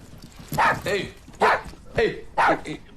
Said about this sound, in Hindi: ये कैसा कुत्ता है, घर वालों पर ही भौंकता है।